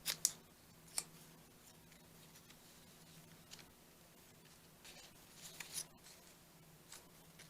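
Scissors snip paper circles for a collage, a few faint, short crisp clicks at irregular moments against a quiet room.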